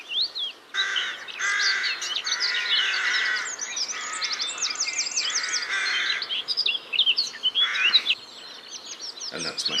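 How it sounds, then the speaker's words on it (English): Blackcap and other birds singing together in spring, a dense mix of bright chirps, trills and warbling phrases from several birds, steady and fairly close throughout with a few harsher calls. "And that's my favourite, the blackcap."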